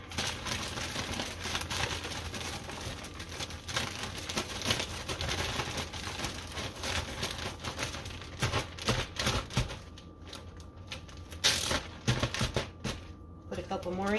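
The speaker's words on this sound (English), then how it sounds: "Zip it up, give it a shake." Raw pork chops being shaken inside a zipped plastic bag, a busy crinkling, rustling rattle that runs steadily for several seconds, with a person talking now and then over it.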